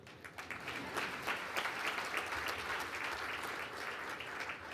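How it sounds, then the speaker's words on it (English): A gala crowd in a large hall gives steady, sustained applause, many hands clapping evenly in a soft, continuous wash heard from a distance. "It is Paul, you may applaud."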